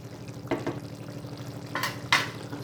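A spoon stirs food in a pan on a stovetop over a low steady sizzle, with two or three distinct scraping strokes against the pan, close and clear.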